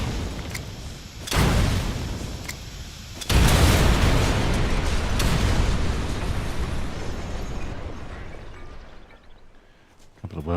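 Grenades blow up a Hind helicopter in a video game: two loud, close blasts a couple of seconds apart, the second heavier, each followed by a long rumbling decay that slowly fades out.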